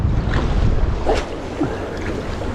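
Wind blowing over a boat during a bass and squid fishing trip, fishing head-on into the wind. A steady, loud low rumble and buffeting from the wind run through the whole moment, with no talking.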